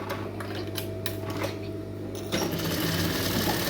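An electric sewing machine runs long stitches with a steady mechanical whirr and rapid needle clatter, growing noticeably louder and busier partway through.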